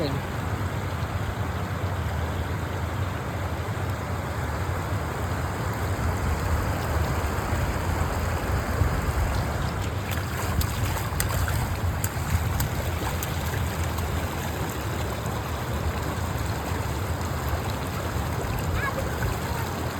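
Water flowing in a stream, a continuous broadband rush that stays steady and fairly loud throughout, with faint background voices.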